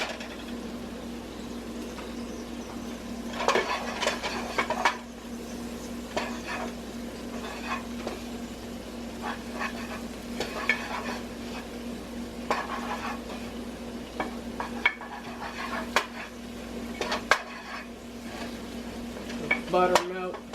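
Butter melts into a flour roux for penne chicken Alfredo, a soft steady sizzle broken by spoon scrapes and clinks against the pan, close and moderately loud without speech.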